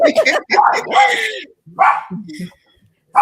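A dog barks and yips in several short bursts, loud and close, at the end of a radio show, with someone talking between the barks.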